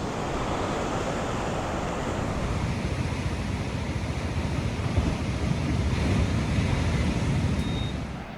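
Surf rolls in at Legon Pari beach beside Sawarna in Indonesia, making a steady, close, full wash of waves mixed with wind rumble on the microphone, with no voices.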